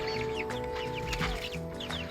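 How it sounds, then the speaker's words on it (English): Four-to-five-week-old chickens cluck in a steady chorus of short, overlapping calls over a constant background hum, with occasional louder cackles breaking through. "There's the chickens."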